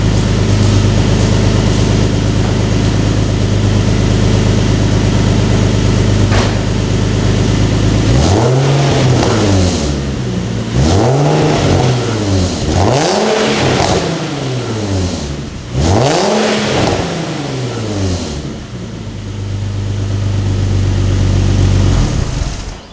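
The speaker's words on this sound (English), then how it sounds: "I'm going to rev it up a little bit with the new catback." A Nissan 370Z with an Invidia Gemini catback exhaust idles loudly, then revs up and down three times in rising, falling sweeps before settling back to a throaty idle.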